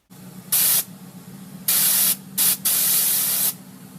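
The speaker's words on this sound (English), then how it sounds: "Here's a Nitrous Express Purge System, so we can do cool things like go psh." A Nitrous Express purge system on an Ecotec-swapped Miata blasting nitrous in loud, sharp hissing bursts: a short spray, a longer one, then a quick burst followed by a sustained spray, over a low steady hum.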